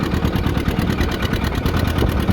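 John Deere 70 tractor engine pulling a plow in third gear at full throttle, a loud, steady rhythmic two-cylinder chug heard up close with no talking.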